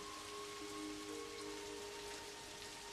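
Steady rain falls in Sydney, a dense, even hiss of drops on surfaces throughout, moderately quiet with a faint tonal hum beneath and no voices.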